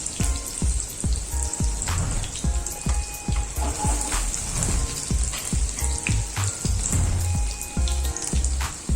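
Vegetable Manchurian balls sauté lightly in a pan with sauces, giving a continuous oily sizzle broken by repeated sharp clatters and scrapes of a spatula against the pan.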